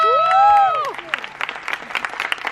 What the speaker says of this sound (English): So I would like my audience to turn around and give them an applause